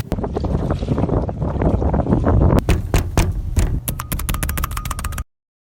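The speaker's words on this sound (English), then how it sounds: "There's so much wind in these samples." Wind buffeting a microphone outdoors in a nature field recording, a loud continuous rumble for about two and a half seconds, then broken into sharp gusty bursts and pops before cutting off abruptly.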